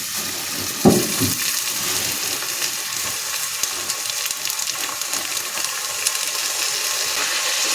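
Chopped fenugreek leaves drop into hot oil with a soft thump, then a bright, hissing sizzle keeps up steadily and close by for several seconds, with faint scraping now and then and no one speaking.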